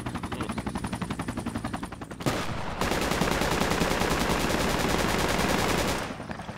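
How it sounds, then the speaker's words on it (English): Automatic gunfire in the military shooter Project Reality, a rapid rattling burst, a short pause, then a long sustained stream of shots, loud and close with no talk. "I was hearing him shooting."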